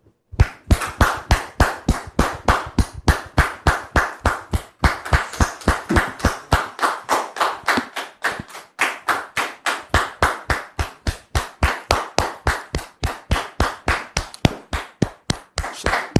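Studio audience on a French TV debate show clapping in steady, loud, rhythmic unison as a guest is welcomed, sustained throughout with no talking.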